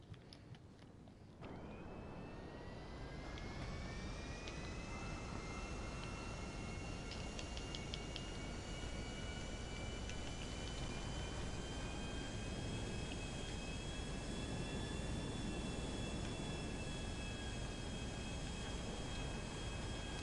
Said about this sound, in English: I'll just grab this jet.